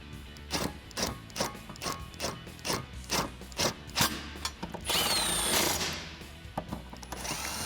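A 13mm socket ratchet tightens bolts on a spare tire relocation bracket against the tailgate of a Jeep Wrangler JL, clicking in a steady series of quick strokes, close up, followed by a brief louder rattling burst.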